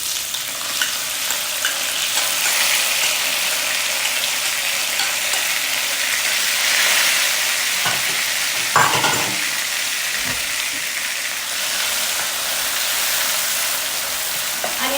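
Mango pieces for an instant jaggery mango pickle hit a hot pan with fennel and sizzle loudly and continuously, with a few spoon scrapes and knocks from stirring partway through.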